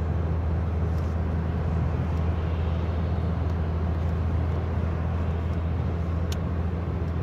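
A car drives along the road to a village, its interior filled with a constant low engine hum and tire rumble that stays steady and even, with no talk.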